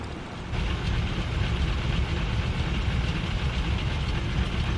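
A steady, loud engine drone from a Wilga 35/80 in a flight simulator, rising after a quiet start and then holding as an unbroken broadband roar with no talk over it.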